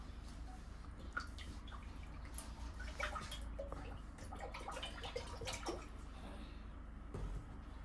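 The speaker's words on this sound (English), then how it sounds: "Now I'm going to add the vegetable oil." Vegetable oil pours into a pan with soft, faint trickling and scattered drips over a low background hum, quiet and close, no talk.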